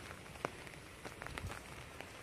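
Rain falls on a farm with rice fields and vegetable plots, a steady soft patter of drops on leaves and ground with scattered closer taps, no voices over it.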